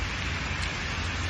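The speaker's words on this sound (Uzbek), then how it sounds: "Xullas, yomg'ir yog'yapti." Rain falling outdoors on a city street in Tashkent, a steady broadband hiss with no distinct drops or voices.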